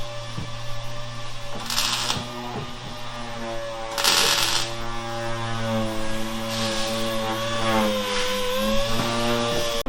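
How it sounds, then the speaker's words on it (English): A welder tacks a piece in place in a corner, with several short bursts of crackling arc noise over a steady, loud electrical machine hum. "I'll start here and tack it in this corner"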